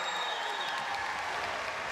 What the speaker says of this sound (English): How about a round of applause for all the IM swimmers this morning?